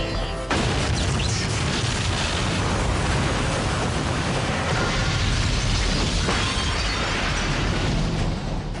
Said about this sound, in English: Liam, it's going to cause an antimatter explosion